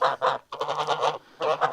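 A few sharp, nasal honks from farm geese ring out close by in quick succession, with a short gap in the middle.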